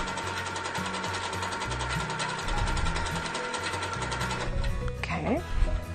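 A sewing machine stitching quilt fabric runs steadily with a rapid mechanical whirring and clicking, dropping to a lower rhythmic rattle near the end, while a person talks over it.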